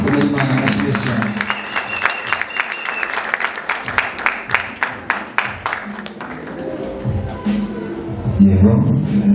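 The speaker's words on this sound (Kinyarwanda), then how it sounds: "dukomere Imana amashyi cyane" A congregation claps in a rhythmic, evenly spaced beat during a church wedding service, loud and close, with voices and music mixing in toward the end.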